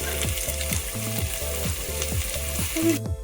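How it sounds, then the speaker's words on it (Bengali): Chopped onion and tomato fry in hot oil in a pan, a loud steady sizzle broken by regular rhythmic stirring strokes, with no voices. "পেঁয়াজকে এখানে ভাজা ভাজা করে নেওয়া হচ্ছে"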